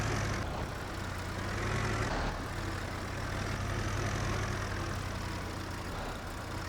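A tractor engine in Farming Simulator 22 drones steadily at low idle-like revs while hauling near a tree, a constant mechanical hum with no voices.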